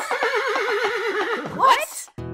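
A horse whinnies in a wavering, sustained call that rises into a sharp squeal near the end, loud and close, followed by a brief pause and a short burst of other sound.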